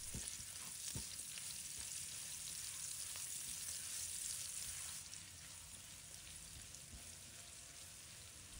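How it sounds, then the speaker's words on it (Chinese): Salted fish frying in a little oil in a wok gives off a steady, close hissing sizzle with occasional soft stirring scrapes, the crackle dropping slightly in volume partway through. "再把咸鱼放入锅中，把它炒香"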